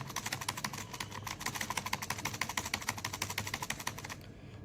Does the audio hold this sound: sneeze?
no